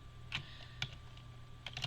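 Keys tap on a computer keyboard in quiet, short irregular bursts of a few clicks each, faint and close, with no talk.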